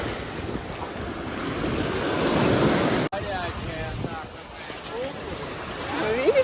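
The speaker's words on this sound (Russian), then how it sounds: "Сегодня не очень ветрено, но тем не менее море штормит." Stormy sea waves break on the shore at Odessa, a loud, continuous rushing surf buffeted by wind noise, with a brief cut midway and quieter wash and a voice afterward.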